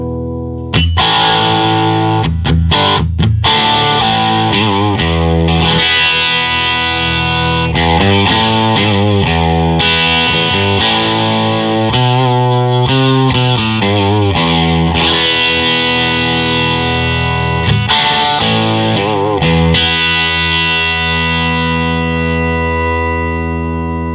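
Distorted electric guitar on the bridge pickup through a Gibson GA-19RVT Falcon amplifier, played loud and continuous, chords and sustained notes with a gritty, overdriven tone, no talking.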